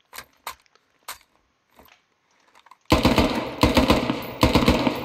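In Squad, a rifle fires bursts of two or three shots on a practice range: a few faint distant reports first, then loud close cracks arriving in quick paired bursts with short gaps.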